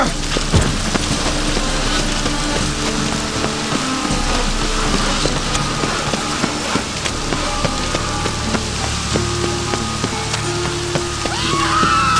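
Rain falls steadily in The Witcher 3: Wild Hunt, a continuous close patter on surfaces with scattered droplet ticks and a low rumbling undertone, no speech.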